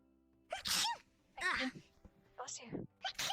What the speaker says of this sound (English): I didn't actually expect you to sneeze like a cat.